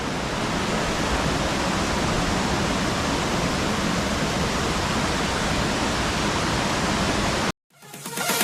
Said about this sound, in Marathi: नजारा बघा मस्त आहेत धबधबे इथे छोटे मोठे